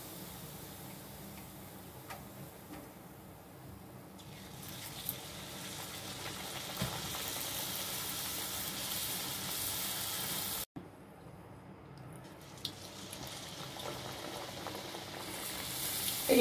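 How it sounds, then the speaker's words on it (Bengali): Luchi puffing as they fry in hot oil, a steady dense bubbling sizzle that holds throughout with a few small ticks and a brief break near the end, no talking. "লুচিগুলো ভেজে নিচ্ছি।"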